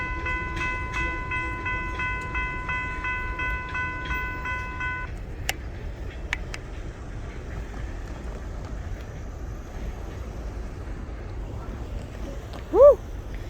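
A long Kiamichi Railroad freight train of about 100 cars passes near Idabel, Oklahoma, with a steady low rumble of rolling wagons, a multi-tone horn blast at the start, a few clanks and a brief shout near the end.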